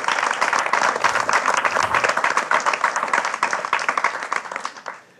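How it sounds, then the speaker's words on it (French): Indoor audience at a technology conference presentation giving a round of applause, dense clapping close and steady that thins out and fades over about five seconds. "je ne vous ai pas demandé d'applaudir Alexis pour cette présentation"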